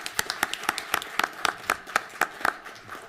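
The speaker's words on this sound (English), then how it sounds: "let's have a round of applause for." Conference audience clapping at a project kick-off meeting: a steady run of sharp, evenly spaced claps, fairly close and moderately loud, heard alone without talk.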